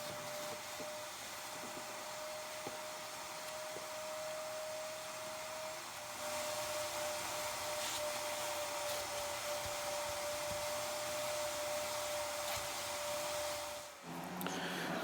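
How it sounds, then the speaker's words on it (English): A vacuum cleaner runs steadily inside a car, sucking loose dust and dirt from the interior carpet, a constant whine with small bumps and scraping as the nozzle moves, stopping briefly near the end. "all we need to do is vac this back up"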